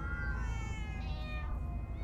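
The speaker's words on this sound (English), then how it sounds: "Oh, many cats, so many cats." Several cats meow in a Minecraft Story Mode game scene, a run of clear, rising and falling mews close up over a steady low background hum, with no talking.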